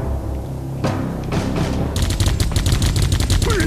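Gunfire in the video game Geist: a few scattered shots, then a loud dense burst of rapid automatic fire with heavy low thumps, no voices.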